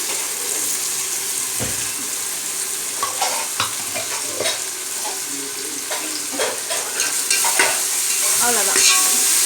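Ginger, garlic and shallots sauté in a hot pan with a steady, bright sizzle, punctuated by repeated scraping and stirring of a utensil against the pan.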